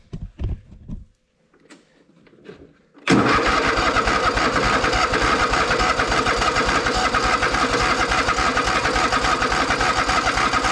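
A Toro Timecutter zero-turn mower engine catches after some quiet fumbling and clicks, then roars into a loud, steady, throbbing run close by.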